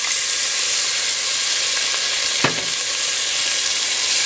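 Steady, loud sizzling and hissing as a hopia mixture is stirred in a hot pan while water is added bit by bit, with one short knock of the spoon midway.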